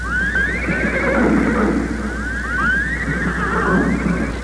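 A horse whinny sound effect standing in for a unicorn gives several loud, close neighs in quick succession, with breathy snorting underneath and no talking.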